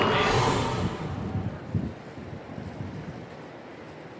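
Wind gusts across a harbour at the start of an open-water swim race, a loud broadband rush buffeting the microphone, strongest at first and easing to a steady blustery roar.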